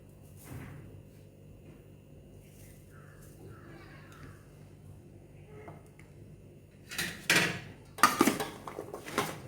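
A spoon clinks and scrapes in a bowl as raw mango pickle is mixed with chili and salt. After a mostly quiet stretch, a few sharp, close clatters come near the end.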